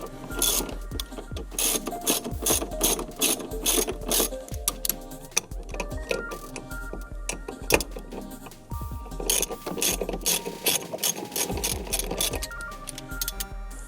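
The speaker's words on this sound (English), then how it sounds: "just take the bolts out of the seats" A hand ratchet loosens seat bolts, clicking in rapid rhythmic bursts with brief pauses between strokes, close and fairly loud throughout, with no talking.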